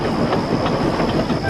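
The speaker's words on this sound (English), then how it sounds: "Presently they rumbled over the bridge and onto the Fat Controller's railway." Trains rumbling over a railway bridge in a remastered Railway Series story: a dense, continuous roar with rhythmic wheel clatter, loud and close.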